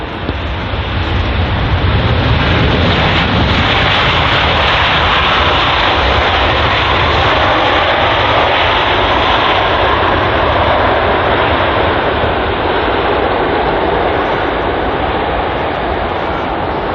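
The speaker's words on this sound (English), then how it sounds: "One of my favourite aircrafts here is the A350, just such an amazing aircraft." Airbus A350 jet engines roar at London Heathrow, a loud, broad, sustained rumble and hiss that swells slightly and holds steady throughout with no voices.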